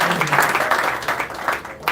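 Enthusiastic applause at a Tuesday night gathering with a rabbi and a visiting Munkatch Rebbe: a loud, dense burst of clapping from a close crowd that holds steady for a couple of seconds.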